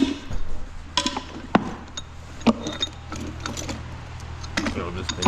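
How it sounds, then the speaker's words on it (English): A gear is lifted off the ring of a worn limited-slip differential on a three-wheeler build, giving scattered metallic clinks and scrapes with a sharp knock or two, close by under a low background hum. "we should be able to lift that gear off there now"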